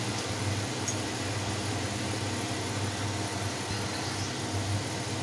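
A kitchen mixer grinder grinds masala to a fine paste with a little water for fish curry, its motor giving a steady, loud, unbroken whir for the whole stretch.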